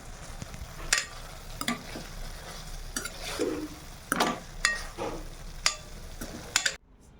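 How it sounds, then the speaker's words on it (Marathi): A cooked vegetable dish with fresh coriander leaves being mixed in a pan, soft frying sizzle under a series of sharp spoon scrapes and clinks against the pot, close and alone, ending abruptly. "आता याच्यामध्ये कोरिएंडर लीव्स टाकलेला आहे. हे मिक्स करून घेते."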